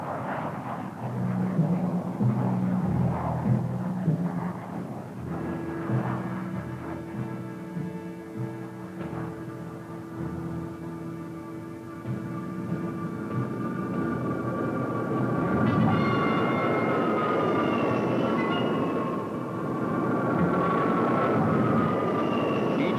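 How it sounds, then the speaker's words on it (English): Military jet aircraft of Tactical Air Command roar steadily at moderate distance in 1963 Cuban crisis footage, with a sustained rumbling drone and rising turbine whine building in the latter half. "Tactical Air Command quickly brings its aircraft to an advanced alert."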